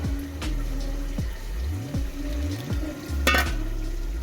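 Flour and water batter for chicken nihari being whisked in a bowl, rhythmic wet scraping and stirring strokes repeating steadily up close with no speech.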